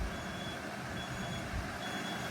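A car-hauler truck with ladder racks backs up, its reversing alarm beeping at a steady interval over loud, rumbling engine noise.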